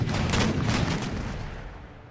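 Musket volleys and artillery fire in Empire: Total War, a dense crackling burst of many overlapping shots at the start that rolls on and slowly fades over about two seconds, loud and close with no voices.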